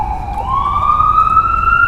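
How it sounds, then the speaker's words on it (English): A police siren wails steadily, its pitch gliding slowly upward, fairly loud over a low rumble of traffic, with no voices. "Hold on, there's a police siren."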